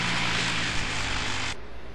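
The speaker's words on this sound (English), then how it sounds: "Oh my god, a helicopter." Helicopter in a Resident Evil video game, giving a loud, steady, close engine and rotor roar that fills the space and then cuts off sharply near the end.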